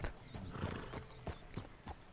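Horse hooves clip-clop at a relaxed gait in the video game Red Dead Redemption 2, a handful of soft, uneven thuds over a low background bed.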